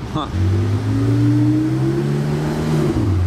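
A Porsche 918 Spider sports car drives past nearby with a steady, rising engine drone that holds for about three seconds before easing, heard alone without talk.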